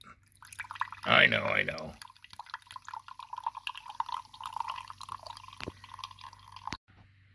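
Mountain Dew Rise energy drink poured into a glass, a brief burst of liquid splashing for about a second, followed by people chatting at close range.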